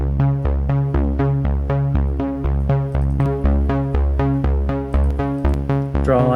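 A Juno-style synth runs through the TAL-Chorus-LX chorus effect, playing a fast repeating pattern of bright plucked notes over a steady low pulse, clear and without talk.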